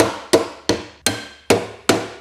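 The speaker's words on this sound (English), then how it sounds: "use this metal bar and this hammer that I've just covered in a bit of tape" Six sharp hammer blows on a tape-covered metal bar, knocking a Land Rover Defender panel edge straight. Evenly spaced ringing metallic knocks, close and loud, each decaying quickly before the next.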